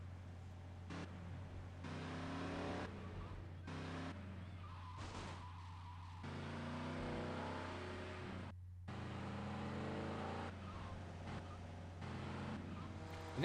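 Steady engine drone of a car driven in the video game GTA: Liberty City Stories, with tire skids and shifting revs throughout, over a constant low hum.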